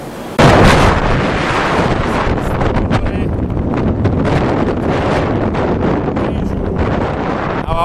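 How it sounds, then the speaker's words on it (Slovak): Strong wind blasts into the microphone on a January hike to Vápeč, a loud, rumbling buffeting that starts abruptly and continues unbroken to the end. "Akože strašný vietor tu je, masakér."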